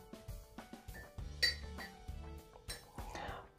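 A metal spoon clinks repeatedly against a cup of turmeric ginger tea, a series of close, bright taps in an irregular rhythm with ringing tones, plus a faint scrape near the end.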